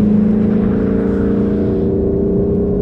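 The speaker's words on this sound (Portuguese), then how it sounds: "200 cavalos de diesel que fazem este carro andar muito depressa" Loud, steady engine drone from a 200 hp diesel VW Golf 8 GTD on the move, heard from inside the car with a constant hum and smooth tyre roar and no talking.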